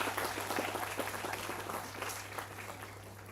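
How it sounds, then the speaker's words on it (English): An audience at a university student induction program applauds after a session, a dense wash of many hands clapping together, strongest at the start and slowly tapering, heard alone over a steady low hum. "A big round of applause for such a brilliant session."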